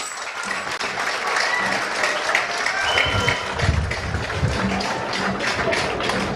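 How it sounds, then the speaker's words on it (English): Audience applause at a cabinet swearing-in ceremony in St. Kitts and Nevis: sustained, dense clapping from a crowd that fills the whole stretch at a steady level, with some low rumbling beneath. "Let's give another rousing round of applause for our members of cabinet"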